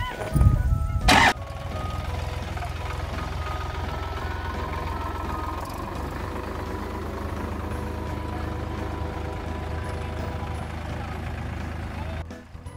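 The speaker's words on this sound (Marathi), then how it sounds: "ट्रॅक्टर चालव" Farm tractor on a misty rural morning: a loud burst at the start, then a steady low engine rumble running continuously nearby, with faint voices briefly in the background.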